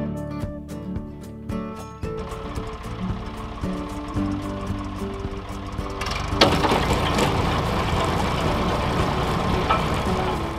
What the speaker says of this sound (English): So that's PTO driving the spinner still